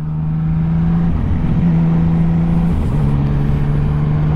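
A Yamaha Tracer 900 GT motorcycle with a new exhaust runs at a steady, loud, close engine drone, with slight pitch shifts as the revs change. No one speaks over it.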